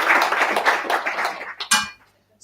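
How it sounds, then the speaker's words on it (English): Brief applause from a small audience at a Python meetup, scattered hand claps that quickly thin out and fade to silence after about two seconds. "Then I think we owe a big applause."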